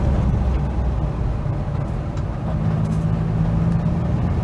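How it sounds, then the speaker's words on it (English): Engine of a 1975 Mitsubishi Colt 1400 Delica minibus drones while driving, a steady low rumble with road and cabin noise heard from inside, fairly loud and continuous without speech. "all the engine noise is actually coming from behind me"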